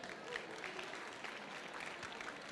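A summit audience gives a speaker sustained applause, a faint but steady field of many hands clapping heard from a distance.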